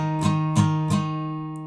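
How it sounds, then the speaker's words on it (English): Acoustic guitar octave, strummed down-up three times at an even pace, each strum bright and ringing, then left to sustain and fade, with no talk over it. "So that octave will be strummed with a down, up, so it'll sound like this."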